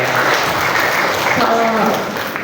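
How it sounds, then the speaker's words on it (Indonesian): An audience of students applauds for an alumni speaker at a school orientation event, a dense burst of clapping with some voices mixed in, fading slightly at the end. "Tepuk tangan dulu buat Katia."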